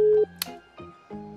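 Telephone keypad dialing in GTA 5 roleplay while calling an ambulance: a handful of distinct electronic tones beep in quick succession, clear and close, with no voices.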